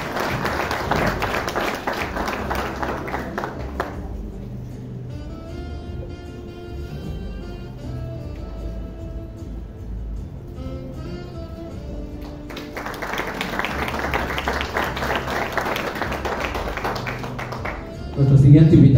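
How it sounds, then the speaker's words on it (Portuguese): Audience applause welcoming a doctor onto the stage at an ultrasonography conference, broad and sustained clapping that swells at the start, thins into a quieter musical stretch in the middle, then rises again loud and close. "Un aplauso por favor para ella."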